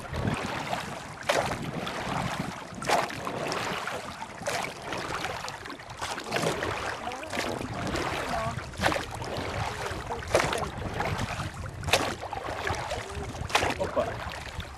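An outboard motorboat runs on the Teriberka river during a fishing trip, a steady droning engine with wind and water noise throughout and occasional sharper bumps, fairly close and continuous without speech.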